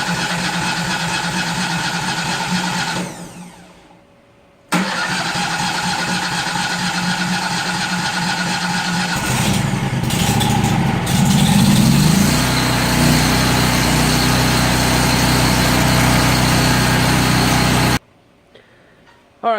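Hobart Champion Elite gas-driven welder generator, a non-EFI engine, runs with a loud steady drone, drops away briefly, then cranks and catches again with a rougher surge before settling to a constant hum and cutting off near the end.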